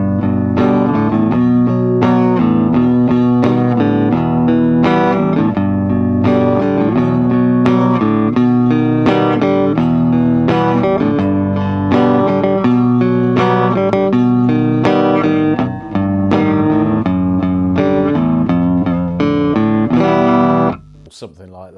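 Woolworths Top Twenty electric guitar, played continuously through a clean tone with a bright, jangly chiming character, loud and up close for about twenty seconds before the notes stop abruptly.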